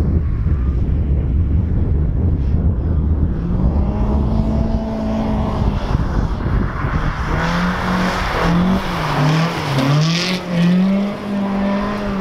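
A front-wheel drive car engine drones and revs up and down over loud wind rumble, tires grinding as it drives on an icy winter race track, close to the microphone.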